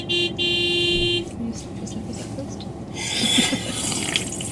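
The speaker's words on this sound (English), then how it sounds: "People just honking away." Car horns honk in a traffic jam on a volcano, a long held horn blast up front and another burst of honking later, heard nearby over idling traffic noise.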